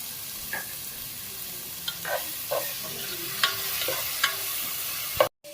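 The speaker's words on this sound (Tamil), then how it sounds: "சின்ன வெங்காயம் வெட்டின சின்ன வெங்காயத்தையும் போட்டு நல்லா வதக்குவோம்." Chopped shallots sautéing in oil for a masala fish curry, a soft steady sizzle under intermittent scraping stirs of a spoon against the pan, heard close with no talking.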